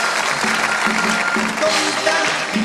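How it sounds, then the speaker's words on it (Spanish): Audience applause at a Chilean TV music show, a steady broadband wash of clapping and cheering lasting throughout, with a faint tone of music or voices underneath. "Denme un aplauso ahí."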